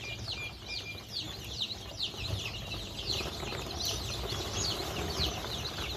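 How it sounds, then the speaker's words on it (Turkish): A crowd of freshly hatched chicks, Brahma among them, peeps continuously in dense, overlapping high chirps around an incubator, close and steady with no talking. "Şu an burada bayağı çok civciv oldu arkadaşlar"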